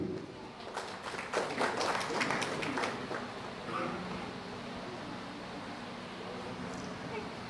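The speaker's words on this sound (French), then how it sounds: "Je vous demande de l'applaudir encore une fois." Audience applause at a conference on peace and unity, a burst of clapping building over the first three seconds, then settling into a quieter room murmur as the clapping dies away.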